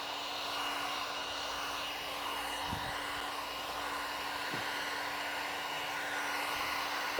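A heat gun post-heats vinyl wrap on the trunk of a Tesla Model 3 Highland, producing a steady, loud, close blowing whir with a faint motor hum that runs without a break.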